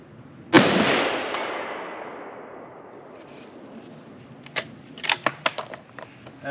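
A 7mm Remington Magnum fired from a Colt Ultra Light rifle, one sharp loud report with a long rolling echo that fades, followed by light metallic clinks and rattles.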